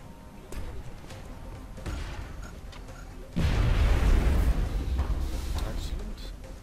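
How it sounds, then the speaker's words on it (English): Grenade explosion in the video game XCOM Enemy Within, a sudden loud booming blast midway that rumbles and decays over a couple of seconds, with someone talking before it. "Let's chuck in that grenade now."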